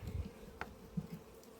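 Honey bees buzzing around an opened hive at an apiary during a colony inspection, a faint steady hum with a few nearer passes of individual bees.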